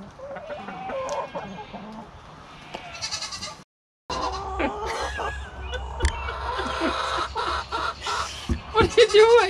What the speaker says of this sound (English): Here's a good chicken. You like your new roof?